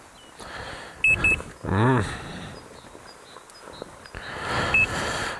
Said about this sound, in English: needs to beep like a forklift every time I put it into drive or reverse